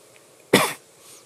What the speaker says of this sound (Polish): Przepraszam za mój kaszel.